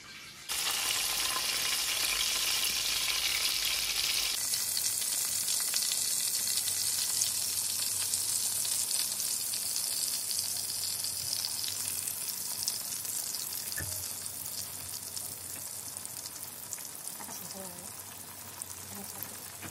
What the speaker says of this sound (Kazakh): Майымыз қызды, енді осыны ақындап майға қуырамыз.